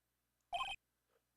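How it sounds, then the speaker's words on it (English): A phone ringtone in Phoenix Wright: Ace Attorney, a single short bright electronic chime burst standing alone against near silence. "What kind of ringtone is that?"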